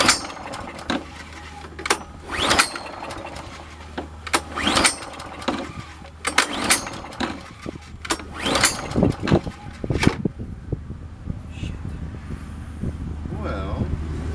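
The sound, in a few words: small engine being cranked, failing to start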